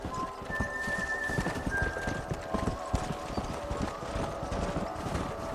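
Horse hooves clip-clopping in the Western video game Red Dead Redemption, a steady close rhythm of hoofbeats over a faint outdoor background, with a brief whinny-like tone early on.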